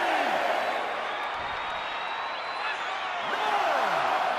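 Crowd cheering and roaring throughout a Last Man Standing wrestling match between Cody Rhodes and The Rock at WrestleMania XL in WWE 2K23, a steady dense crowd wash with whoops, under commentary.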